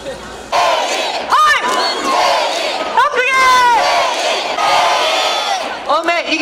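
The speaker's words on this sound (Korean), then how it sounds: "승리의 영혼을 모아 뜨거운 박수와 환호로 맞이해 주시고 응원해 주십시오." Large outdoor crowd at a presidential election rally in Ulsan cheers and shouts loudly and continuously, with rising whoops and chants layered over steady roar and some clapping.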